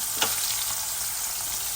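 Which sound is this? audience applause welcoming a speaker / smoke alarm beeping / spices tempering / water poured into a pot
spices tempering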